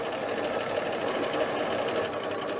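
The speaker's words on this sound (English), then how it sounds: "we are just sewing in the first seam to attach the yoke to the back of the dress." A sewing machine stitches the seam joining the yoke to the back of a dress, running in a steady, close, continuous whir with a fast needle rhythm and no talk.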